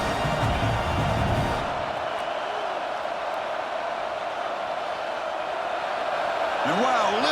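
Dense, roaring stadium crowd noise in a college football bowl game simulation between Clemson and Penn State, a steady loud wash of cheering with a brief voice near the start and end.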